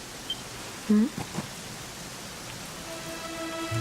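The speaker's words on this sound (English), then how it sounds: "it was raining like this the last time I ever saw her" Steady rain falls in the Dragon Quest XI game world as a soft, even hiss that runs throughout, with a short tonal chime and a spoken voice early on.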